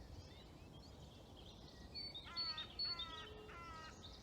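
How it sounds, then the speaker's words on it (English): Morning birdsong in a still forest: several faint, distant birds chirp and call in short repeated phrases over quiet ambient background, with a few clearer trilled calls toward the end. "The birds are all on the move."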